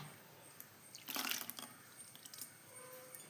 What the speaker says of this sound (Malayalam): ഇനി നമുക്ക് കുറച്ച് വെള്ളം ഈ ജാറ് കഴുകിയിട്ട് ഒഴിച്ച് കൊടുക്കാം.